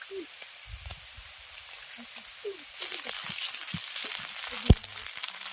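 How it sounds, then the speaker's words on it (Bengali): Spice paste tipped into a pan of frying onions for a bottle gourd curry, setting off a bright, crackling sizzle that swells and stays steady, with a few soft clinks of a spoon against the pan. "পেঁয়াজটা ভেজে নিয়েছি, এবার এর মধ্যে যে বাটা মশলাটা তৈরি করে রেখেছিলাম সেটা দিয়ে দিচ্ছি।"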